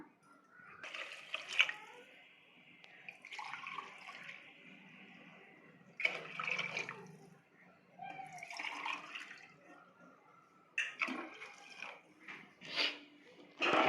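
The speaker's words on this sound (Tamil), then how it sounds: "4 டம்ளர் தண்ணி ஊற்றிக்கலாம்." Water poured from a tumbler into a pot of rice and mint masala in a home kitchen, several splashing pours in bursts, close and moderately loud, with no talking over them.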